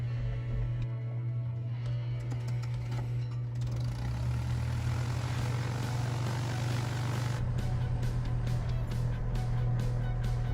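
A light airplane engine catches and settles into a steady propeller drone after a few sputtering turns, close and loud, with a constant low hum beneath and no talk.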